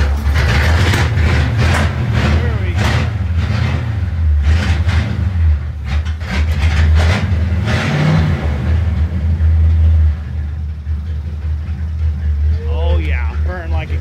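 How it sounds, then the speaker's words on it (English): A 1932 Ford Model A hot rod drives along, its engine rumbling loudly with rhythmic pulsing surges, then easing off; a voice talks over the engine near the end. "Just out here having a peaceful little drive"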